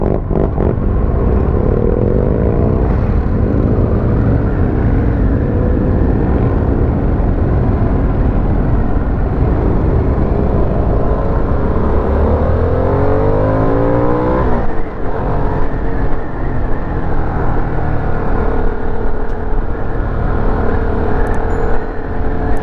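A 2022 Harley-Davidson Sportster S on a demo ride at Daytona Bike Week revs continuously and loudly near the rider, engine pitch climbing and falling through the gears with a steady roar and no talk.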